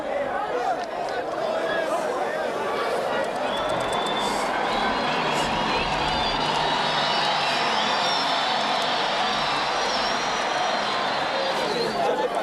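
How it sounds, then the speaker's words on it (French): A dense, enthusiastic crowd gathers in Lubumbashi to see the country's new rulers while soldiers struggle to hold it back. A steady, loud wash of many voices and cheering continues throughout with no pauses. "La foule déborde d'enthousiasme et les militaires ont du mal à la maintenir à distance."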